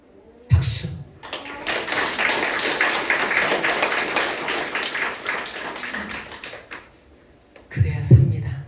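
A congregation at a Catholic retreat lecture claps together for about five seconds in a dense, even burst. A voice speaks just before the clapping and again just after it stops.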